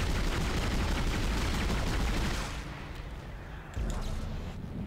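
Gunfire from the video game Dead Space comes as a dense, loud rattling burst for about two seconds, then the sound drops to a quieter, rumbling wash of noise.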